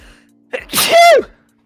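A single close, loud sneeze, a sharp intake followed by a strong burst that ends within about a second, with no talk around it.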